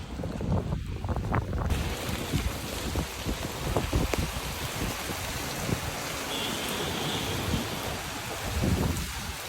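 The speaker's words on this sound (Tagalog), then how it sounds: "Guys, ang lakas ng ulan." Heavy rain pours in a dense, continuous hiss mixed with gusty wind buffeting the microphone at Discovery Gardens, Dubai, with flooding nearby, loud and close.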